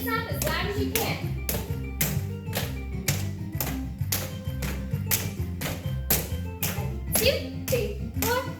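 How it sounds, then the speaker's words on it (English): Children march and stamp their feet loudly in time to upbeat music during a movement class, producing steady rhythmic thuds and taps over a continuous musical backing. "Make those feet snap as loud as you can."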